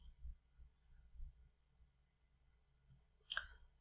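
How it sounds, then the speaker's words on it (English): Sharp computer mouse clicks during course scheduling on a PC, a faint cluster of taps early on and one distinct louder click near the end, with no talking. "I am clicking on it again."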